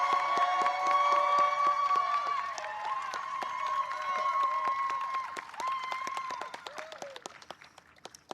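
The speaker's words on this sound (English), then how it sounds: "Let's give Tabitha a loud round of applause." A crowd at a White House Teachers of the Year event claps and cheers with whistles and shouts, loud at first, then thinning into scattered claps as it fades.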